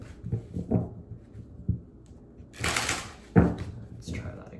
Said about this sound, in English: Hold on, give me two shuffles.